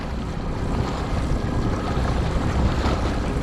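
A small aluminium motorboat running fast over choppy water during a longline fishing check, with a dense, steady roar of engine, wind buffeting and slapping spray filling the whole stretch at close range.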